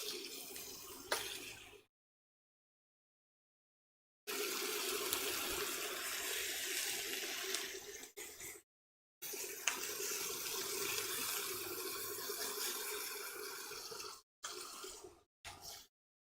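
Tap water running steadily into a sink while hands are washed, a continuous close hiss broken by several abrupt silences as the recording cuts in and out.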